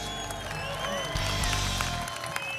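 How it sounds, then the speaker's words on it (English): Applause from an audience at a custom car builders' competition, steady clapping with some crowd noise and a few voices mixed in, moderately loud throughout. "Round of applause, please."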